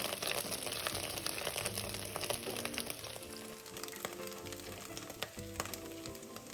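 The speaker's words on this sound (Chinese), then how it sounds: "油热后倒入备好的香菇丁，" Diced shiitake mushrooms sizzle and crackle in hot oil in a pan over medium heat, a steady close frying hiss with scattered pops and occasional stirring clinks, with no voices.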